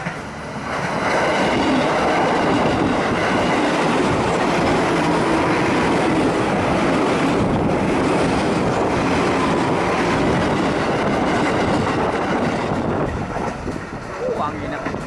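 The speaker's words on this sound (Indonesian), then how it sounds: "keretanya udah pergi pas asar" A commuter train departs a station in light rain and strong wind, giving a loud, continuous close rumble with rail clatter and gusty wind buffeting the microphone.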